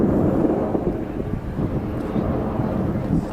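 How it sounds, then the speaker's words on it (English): Red Arrows jet aircraft in a flying display at RIAT 2006 air show, a continuous loud low roar with wind buffeting, steady throughout as the formation accelerates back to speed. "The aircraft now speeding back up again to the customary 400 miles an hour."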